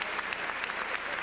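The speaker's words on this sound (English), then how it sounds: "Oh, the crowd is just crazy." A dense roar of a large crowd clapping and cheering at a State of the Union address, steady and loud throughout this short stretch, with no single voice standing out.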